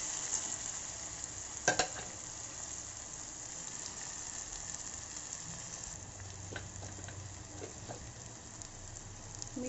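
Spinach curry sizzles quietly in a frying pan while it is stirred and mixed, giving a soft steady hiss broken by a few sharp utensil clinks.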